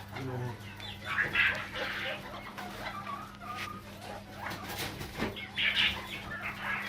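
Several chickens cluck and squawk nearby in a steady, busy chorus, with a low hum and some rustling in the background.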